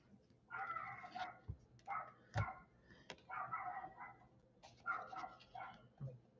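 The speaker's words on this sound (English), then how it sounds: "Got my neighbor's dog." A neighbor's dog barks repeatedly in a steady series of faint, distant woofs heard from some way off, with a few sharp knocks in between.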